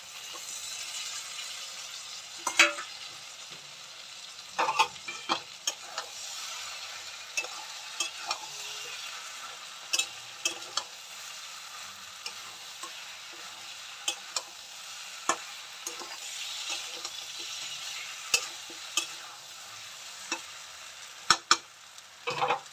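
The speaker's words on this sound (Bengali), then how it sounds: "এবার আমি এই ভাজা মাছের মাথাগুলো দিয়ে দেবো।" Fried rohu fish heads sizzle steadily in a hot pan of oil while a spoon or spatula scrapes and stirs, with sharp clicks of the utensil against the pan scattered throughout; no voices.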